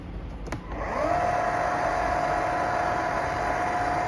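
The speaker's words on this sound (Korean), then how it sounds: "지금 현재 제가 모터를 교환해서 소리가 이렇거든요" A Litter-Robot automatic cat litter box running with a replaced motor: a click, then a steady mechanical whir with a constant tonal hum over a soft rushing noise, close and continuous.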